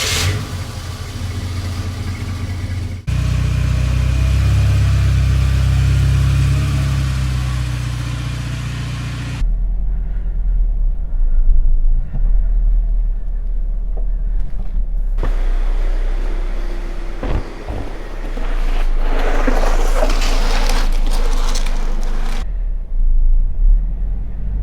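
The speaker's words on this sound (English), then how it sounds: "the first thing I have to do is get the Conquest out of the garage so I can use that space" A Mitsubishi Conquest engine runs as the car pulls out of a garage, a loud, close, steady low rumble that swells at moments of acceleration and shifts in tone as it moves, with no talk.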